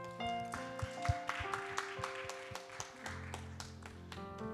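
A congregation claps at a Sunday youth worship service in a church, with scattered hand claps over sustained music and a soft, steady clatter lasting a few seconds.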